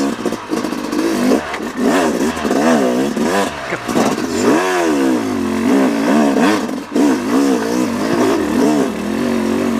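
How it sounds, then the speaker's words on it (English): A 2018 Yamaha YZ250X two-stroke dirt bike lugging in second gear on a trail ride, engine loud and close with wavering, uneven revs and clutch slippage throughout. "That's second gear lugging."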